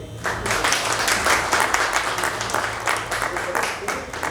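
An audience gives loud applause to welcome the chief guest at a formal function, a steady burst of many hands clapping that rises quickly and continues evenly, with a low hum underneath.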